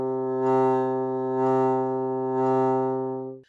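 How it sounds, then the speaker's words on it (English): A bassoon holds one sustained low note with three regular vibrato pulses, played steadily and fading at the end, close and alone. "Now let's try that on the bassoon."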